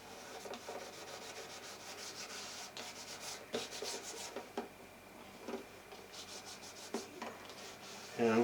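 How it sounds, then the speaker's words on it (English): Fine 6000-grit micro mesh rubbing over clear varnish on an instrument body, soft repeated back-and-forth sanding strokes, quiet and close, with a few louder scrapes. "Rub it out between varnish coats with the micro mesh"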